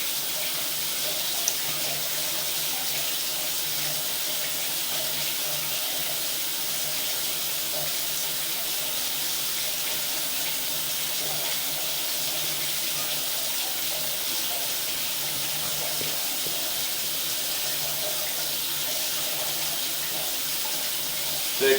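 Water running steadily through a drain line into a basement floor drain in a house, a constant, even hiss that persists without a break, with no talking over it.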